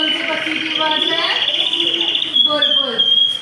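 A bulbul bird calls with a few quick, clear warbling phrases and tweets, close and fairly loud, over a faint background.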